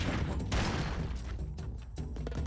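Dense, rapid gunfire in the side-scrolling action game Broforce: a near-continuous burst of crackling shots and small booms, loud and close, with no voices.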